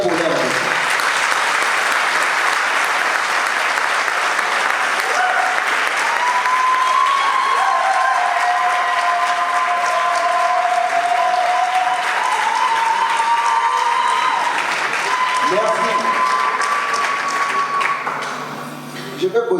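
A wedding congregation breaks into long, sustained applause, a dense wash of clapping that holds steady for nearly twenty seconds, with murmuring voices mixed underneath before it tapers off at the end.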